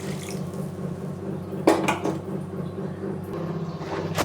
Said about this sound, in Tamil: அதுக்கு வந்து ஒரு அரை லிட்டர் தண்ணி ஊற்றிக்கோங்க